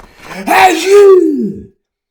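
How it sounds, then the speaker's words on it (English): A single loud sneeze with a sharp intake and a drawn-out voiced burst, close to the listener, ending in silence. "Every time the giraffe lets out a sneeze"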